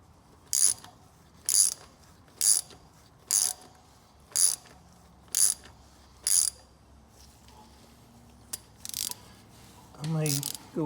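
A tap cutting threads into the aluminum engine case drain hole of a Honda Rancher, heard as about nine evenly spaced sharp ratcheting clicks from a close tap handle, then a few softer scrapes and brief handling noise at the end.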